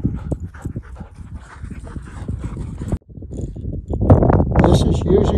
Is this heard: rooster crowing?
no